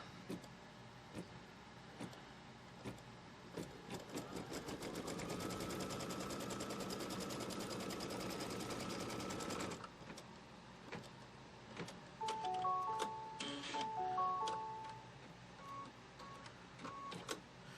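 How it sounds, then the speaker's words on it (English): An embroidery machine stitches a tacking line across quilt fabric held in a hoop, with rapid mechanical needle clatter and a steady motor whir that stops partway, then brief beeps and clicks follow. "now it's going to run a stitch line from left to right,"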